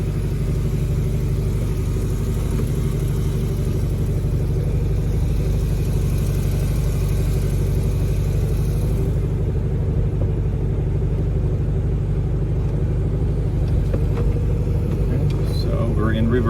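A car engine fitted with a newly installed Solex 34 PICT 3 carburetor runs steadily at idle, a loud, constant low rumble close by with no break throughout, and a slight change in tone toward the end.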